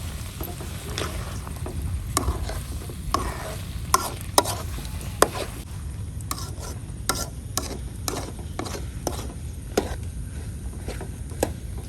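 Spices including raw cumin for Mangalorean chicken sukka get mixed by hand, with soft scraping and stirring taps that repeat irregularly and sit close and quiet, with no voices.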